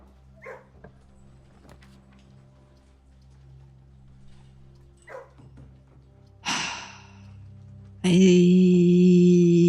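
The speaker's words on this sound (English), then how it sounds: "Ooh, doggos." Dogs barking in the video game Blue Prince, a few short yelps scattered through a quiet ambient backdrop, ending in a loud sustained tonal game sound.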